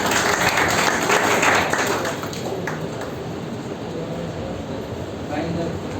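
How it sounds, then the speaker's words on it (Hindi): Audience applause at a product presentation for an herbal shampoo, loud and dense at first and then settling to a steadier, slightly softer clapping that carries on through the clip. "2000 तालियों से इसके लिए।"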